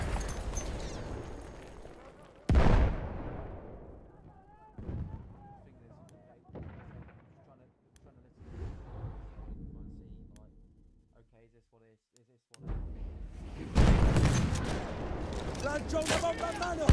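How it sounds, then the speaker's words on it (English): Explosions in Battlefield 1 go off in several heavy booms spread across the stretch, with quieter rumbling and scattered battle noise between, one loud blast early and a strong cluster near the end. "Esplosivi pronti a saltare."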